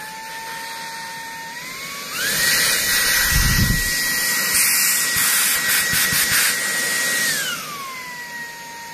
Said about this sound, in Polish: On w trybie turbo ciągnie tak jak standardowe odkurzacze.